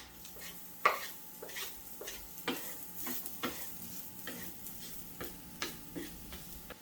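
A pork mix is stirred and fried in a little oil in a pan, a steady close sizzle broken by regular scraping strokes of the spoon or spatula, with no talking.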